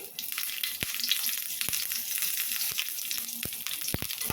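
Dried chillies, chana dal, curry leaves and peanuts fry in hot oil for a tempering, giving a steady close sizzle with a few sharp spoon clicks against the pan.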